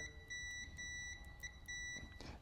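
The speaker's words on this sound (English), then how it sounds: "it does alarm when there is continuity" A steady electronic continuity beep from a multimeter testing the plug prongs of a Predator 11500 generator, sounding in three bursts with brief gaps, over faint background hum.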